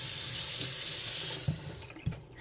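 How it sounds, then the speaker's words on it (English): Kitchen tap water runs steadily into a sink while porgy fish is being prepared for steaming, a continuous close hiss that thins out near the end with a couple of soft knocks. "Sorry for the water running."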